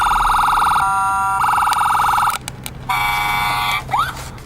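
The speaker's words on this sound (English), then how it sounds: "It's an unbranded toy, a police car that makes sound." A small unbranded toy police car's electronic siren wails in a looping pattern, pausing briefly and shifting to a different siren tone, with a few clicks near the end.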